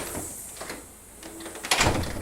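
A newly installed storm door fitted with door closers swings open and shut. It gives soft sliding and hissing movement, then a louder clack near the end, heard up close without speech.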